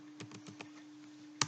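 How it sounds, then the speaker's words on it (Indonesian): Several quick keystrokes on a computer keyboard as a command is entered in a terminal, four light evenly spaced taps and then a sharper, louder key press at the end, close and clear. "kemudian ketikkan perintah Mendeley Desktop"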